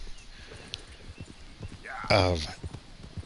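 A horse walking in Red Dead Redemption 2: soft, steady clip-clop hoofbeats close by, with a brief whinny partway through, under a low game ambience.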